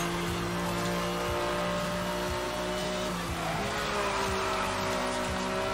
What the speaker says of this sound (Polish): Zaczyna deszcz padać jak w dircie.